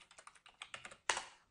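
Someone types a website address on a computer keyboard in a quiet room. About a dozen quick, light key clicks come in an uneven rhythm, then a short pause and one louder, sharper keystroke.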